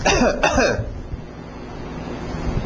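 A voice imitates a cough with a short, voiced burst at the start, then breathy noise trails off into a quiet background.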